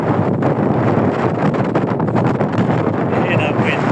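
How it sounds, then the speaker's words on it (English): Strong wind buffets the microphone at Reculver Towers in Kent, a loud, constant roaring rumble with gusty fluctuations across the whole stretch, and no pauses. "it's extremely windy up here"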